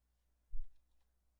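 A single soft mouse click lands on a software dialog's OK button, quiet and brief, with no one talking.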